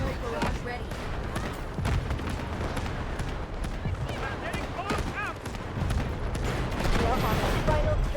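Artillery barrage in a video game, a dense continuous rumble of booming explosions and rapid gunfire, loud and sustained throughout with scattered voice chatter over it.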